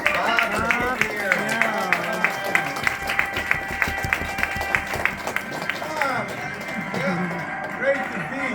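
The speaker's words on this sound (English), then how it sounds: "give a big hand of applause for our very own Bob here" An audience greets keynote speaker Bob Conigliaro with rhythmic, evenly spaced clapping mixed with cheering voices, loud and lively, before the beat dissolves into looser crowd noise.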